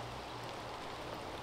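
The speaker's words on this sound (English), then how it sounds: "you can hear the raindrops in the background" Rain falls outdoors on a golf course, a faint, even hiss of raindrops that holds steady throughout with no talk over it.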